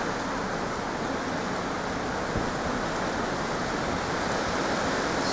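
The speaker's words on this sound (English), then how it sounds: "Still classified as sleet, but there's some definite flakes in there." Sleet mixed with some snowflakes falling on top of Shooters Hill in December, a steady, even hiss of precipitation filling the whole stretch without pause, with no voices.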